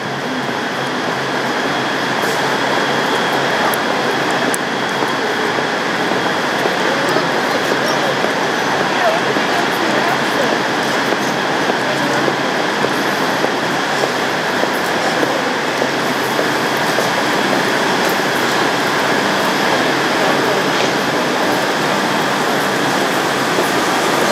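A train pulling into London Waterloo railway station, a loud continuous rumble of wheels and carriages filling the platform throughout, with announcements and voices mixed underneath.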